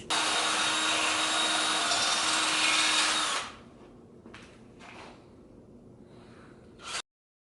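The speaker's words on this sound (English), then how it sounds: "So we're going to drill that next." A power drill whirs loudly and steadily for about three seconds while drilling holes for a fender conversion kit, then stops, followed by quieter handling clatter and a brief final burst.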